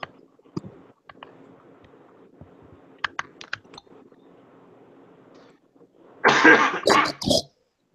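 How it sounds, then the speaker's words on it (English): After a few quiet clicks and taps, a burst of loud, harsh coughing from a weeks-long cough erupts near the end, several hacks in quick succession. "I've had this cough for 4 weeks now."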